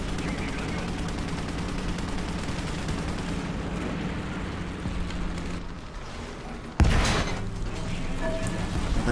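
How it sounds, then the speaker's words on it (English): The Type 74G tank's main gun fires once in War Thunder, a single sharp heavy boom rising over a steady engine rumble and battle noise. "The gun is amazing on this tank."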